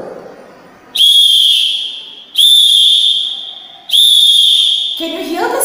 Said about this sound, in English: Can you hear the sound of the whistle?